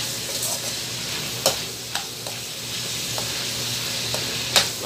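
Chicken sautéing in a pan until golden brown for chopsuey with cream of mushroom: a steady close sizzle and crackle runs throughout, broken by a few sharp clinks of a utensil against the pan.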